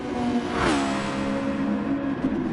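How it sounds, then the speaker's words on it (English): Super Formula single-seater race car at Suzuka accelerating past with a high, screaming engine note that rises through the gears, loud and close, with a brief whoosh as it passes and steady engine roar throughout. "Do sound good, these cars."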